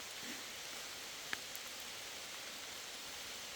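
Steady rain pours down outdoors as an even, close, continuous wash of hiss with one brief tap near the middle. No one speaks.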